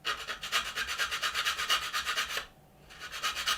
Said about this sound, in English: we're going to sand each side of these